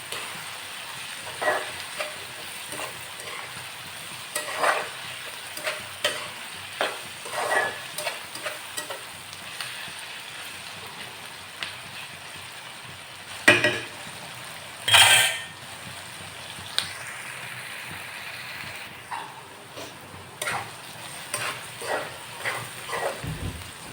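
Prawn gravy curry frying in a pan while being stirred, a low steady sizzle with scattered scraping clinks and a few louder spoon knocks against the pan.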